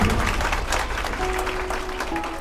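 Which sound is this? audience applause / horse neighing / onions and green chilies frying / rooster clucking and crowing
audience applause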